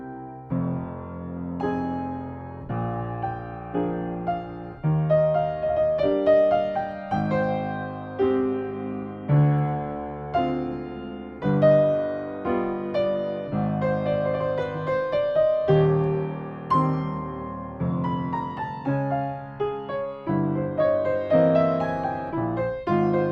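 A solo piano plays a flowing phrase from a Chopin Nocturne, close and clear. A steady left-hand accompaniment runs under a singing melody for over twenty seconds, with no voices.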